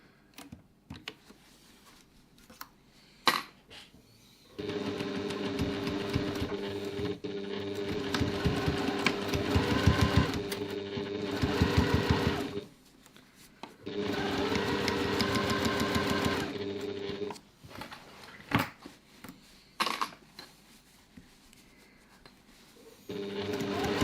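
A sewing machine stitching a French seam on a reusable grocery bag, running in three long steady whirring bursts separated by pauses with small clicks and handling noises; no speech.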